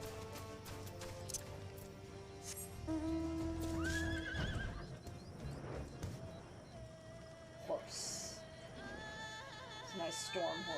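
A storm horse in Monster Hunter Rise whinnies amid game music and effects, with hoof clip-clop and someone talking over parts of it.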